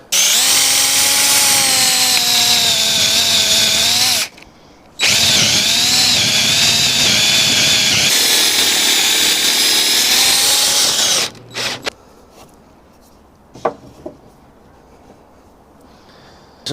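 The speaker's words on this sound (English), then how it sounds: "I'm going to drill straight through the two pieces of material" A power drill whines loudly as it bores straight through two clamped pieces of wood, pausing briefly once, then stopping; a few faint knocks and handling sounds follow.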